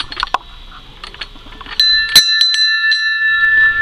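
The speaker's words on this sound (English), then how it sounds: "That's a ship's bell to be played when you're in fog." A ship's fog bell rings out with several sharp clapper strikes, then a bright, sustained metallic tone that hangs and shimmers under further quick strikes, preceded by faint clinking.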